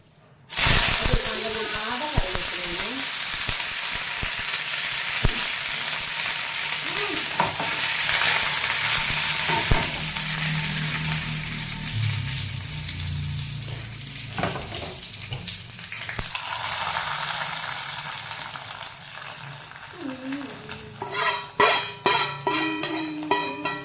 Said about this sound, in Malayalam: കടുക് എണ്ണയിലേക്ക് കടുകിട്ട് കൊടുത്തിട്ടുണ്ട്